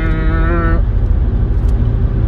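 Wind rushes past a BMW 320d E90 on the road, a loud, continuous low roar of air and road noise. A short tonal whine rises briefly at the start and then fades into the steady rush.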